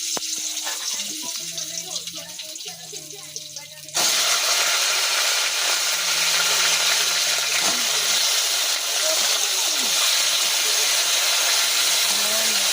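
Bay leaf and white cumin sizzle in hot oil as a tempering, a sudden loud, steady hiss that cuts in partway through and continues to the end, with a voice talking over the quieter kitchen sounds beforehand.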